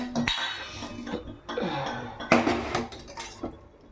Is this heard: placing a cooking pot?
yes